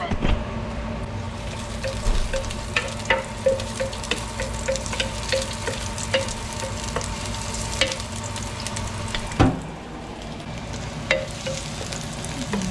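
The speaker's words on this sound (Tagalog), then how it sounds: "Igigisa ko muna siya" Meat sautéing in a pan with loya, a steady close sizzle and frying crackle running throughout, with occasional scrapes and clinks of a spatula stirring.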